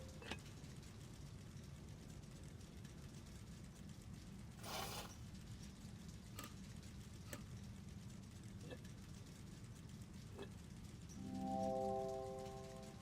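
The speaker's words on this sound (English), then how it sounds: "These gears don't seem to be quite catching back in the back." Gears turn and click inside a mechanical puzzle box in The Room 3, with scattered faint ratcheting ticks and a brief whir over a low rumbling ambient drone, then a soft tonal chime near the end.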